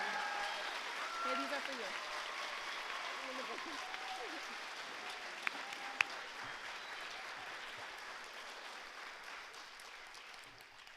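Applause from an audience at a fifth-grade school promotion ceremony, fairly distant and steady, fading gradually, with a brief voice speaking over it.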